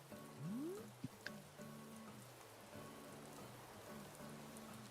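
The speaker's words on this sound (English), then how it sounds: "This looks like heavy rain to me." Heavy rain patters steadily in Animal Crossing: New Horizons, a soft, quiet hiss under gentle game music, with a rising sliding tone and a couple of small clicks early on.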